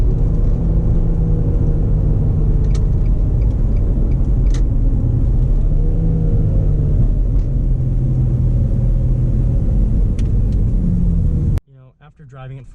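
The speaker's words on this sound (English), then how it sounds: "Just listen to this engine." A 2003 Infiniti G35 Coupe engine while driving, a loud steady low rumble and drone from the cabin that cuts off abruptly near the end.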